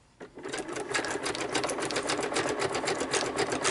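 A sewing machine runs a zigzag stitch across paper journal tags and cards, starting after a brief pause and then whirring steadily with a rapid mechanical needle rhythm, close and fairly loud, with no talking.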